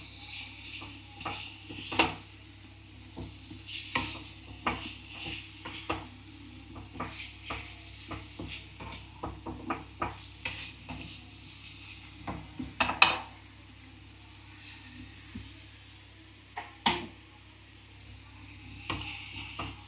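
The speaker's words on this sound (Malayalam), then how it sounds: "കുറച്ച് കുറച്ചായിട്ട് ആഡ് ചെയ്ത് ഇളക്കാം." Fried chicken being stirred into biryani masala in a pot: quiet, irregular scrapes and clinks of a spoon against the pan, with a soft sizzle beneath and no speech.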